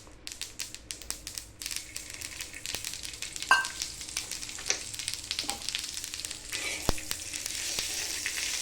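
Garlic roasting in a pan for a fish curry masala, with a steady close sizzle and crackle, quick ticking pops and a few sharper stirring clicks, no voices.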